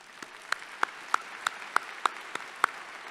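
A round of applause at a Tennessee Tech University spring commencement ceremony, heard as sparse, distinct claps roughly evenly spaced, fairly quiet and thin, about ten hands' worth across three seconds.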